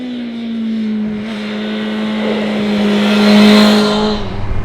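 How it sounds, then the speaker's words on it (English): BMW M 1000 XR Competition motorcycle ridden along twisting roads in Andalusia, its engine holding a steady loud drone that swells slightly as revs rise, heard up close over wind noise. "We're riding a M1000 XR competition pack around the twists and turns of Andalusia."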